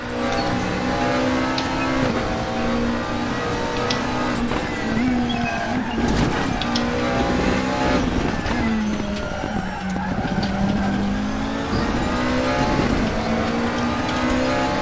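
Engine of a McLaren 650S GT3 race car in the RaceRoom sim at Suzuka, a loud sustained drone rising and falling through gear changes, with tyre skids and squeals layered in close.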